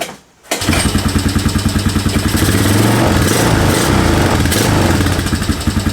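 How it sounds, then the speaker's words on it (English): A 1997 Honda Recon 250 ATV that sat outside for years cranks briefly after a moment of quiet, then catches and runs loud and close with a rapid, even idle. "Let's see if it starts back up."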